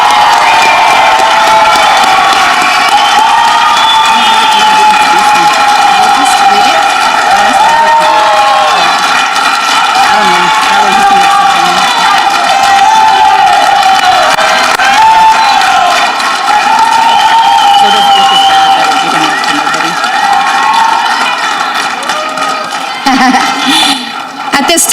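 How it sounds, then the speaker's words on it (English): Crowd at a high school graduation ceremony cheering, shouting and whooping for the graduates, loud and sustained with applause underneath, fading slightly near the end. "Can we give our graduates another round of applause?"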